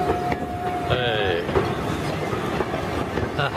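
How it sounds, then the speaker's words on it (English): A long train rolls past on the Isle of Wight as a steady, close rumble with faint wheel clatter and brief tonal squeals, while someone talks over it. "See, it's quite a long train."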